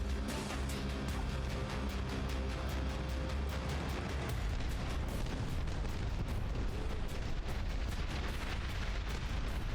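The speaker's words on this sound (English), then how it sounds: "Well, it's the new artillery." Artillery in the Dust Front RTS game fires in a steady, dense barrage of booms and blasts that rumbles on without pause, loud and layered throughout.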